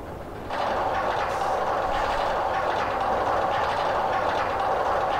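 A roller coaster train with two trains of seven cars running at 6 mph on a test run in Roller Coaster Tycoon 2, heard as a steady mechanical rumble and clatter that begins after a brief quiet start and continues evenly throughout.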